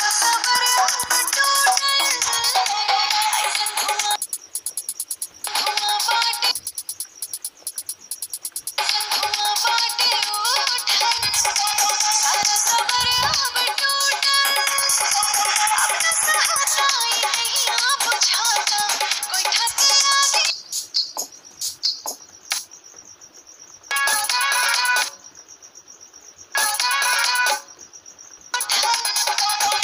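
A Bhojpuri electronic song with a bright melodic beat plays loudly from FL Studio Mobile, cutting out briefly several times near the end.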